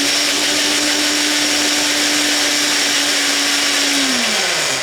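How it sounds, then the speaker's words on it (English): An electric blender whips two eggs with a loud, steady whir that runs unbroken and then winds down in pitch at the very end. "I got 2 eggs which I'm gonna blend instead of whisker because I blend them quicker and easier"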